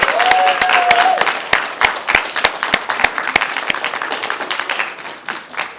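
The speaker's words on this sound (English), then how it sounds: "let's give all of yourselves a round of applause" Graduates at a healthcare leaders graduation applauding themselves, with sharp individual claps standing out rhythmically over a moderate crowd clap that gradually thins, a short voice briefly heard at the start.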